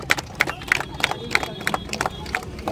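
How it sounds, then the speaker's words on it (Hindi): Audience at a Tiranga Yatra honouring the armed forces claps for an ex-serviceman, sharp rhythmic claps repeating about three times a second over a low crowd murmur, fairly near and steady. "भाई ताली बजाओ भाई, कमी मत करो, ताली बजाओ।"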